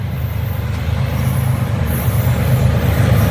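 A northbound CN manifest freight train led by a CN ES44DC and a CN C44-9W rolls past up close, a steady loud low rumble of engines and rolling cars with no breaks.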